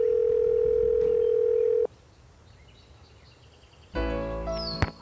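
Telephone dial tone in a Nancy Drew video game: a steady, clear single-pitch hum lasting under two seconds, then a quiet gap before other electronic game sounds and chirps come in.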